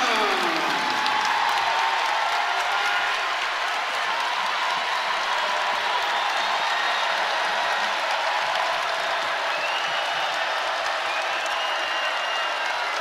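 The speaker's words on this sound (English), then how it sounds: "this crowd is doing their best" A crowd at an NCAA women's basketball second-round game between Villanova and Michigan cheers and applauds, a loud sustained roar of clapping and shouting that stays dense and even throughout.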